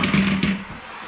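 Steam cleaner pushed across a floor, giving a short low droning hum with a hissy scrape that swells twice and then trails off within about a second, close and fairly loud.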